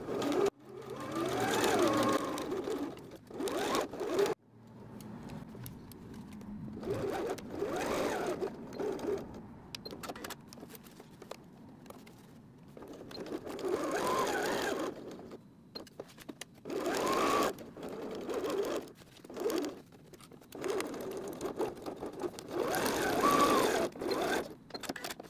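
Sewing machine stitching through thick cork fabric for a pencil case, running in repeated bursts of steady mechanical whirring and needle clatter with short pauses between runs.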